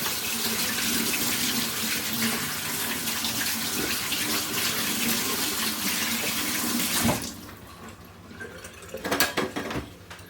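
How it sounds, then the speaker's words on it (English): A kitchen tap runs steadily while hands are washed beneath it, a close, continuous splashing stream that stops after about seven seconds, followed by a few drips and clatters. "I'll wash my hands up."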